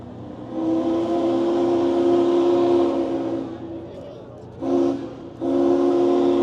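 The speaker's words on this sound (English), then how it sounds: "So that's what the whistle sounds like at half of its pressure." Union Pacific Big Boy 4014 steam locomotive whistle blown at half pressure, a loud sustained chord lasting about four seconds, then two more shorter blasts, with people talking at a display day event.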